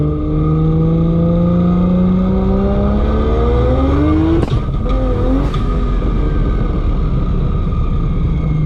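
Barra GT350 race car with a sequential gearbox accelerating hard, a loud close engine note climbing in pitch, then a quick upshift and renewed pull.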